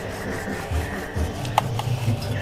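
A hand saw rasping through the soft, fibrous trunk of a banana tree in a garden, a few rough back-and-forth strokes heard close and alone.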